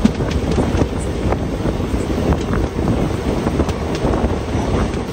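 The Pinakini Express pulls away after a halt at a signal, giving a loud, steady low rumble with rushing wind noise and no voices.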